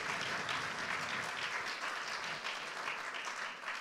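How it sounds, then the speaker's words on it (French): Audience applause at a ceremony for the Prix Tégo honouring President Sulé and members of the UNPRG, a steady dense roll of clapping that holds for the full length without letup. "Vous pouvez applaudir effectivement Président Sulé"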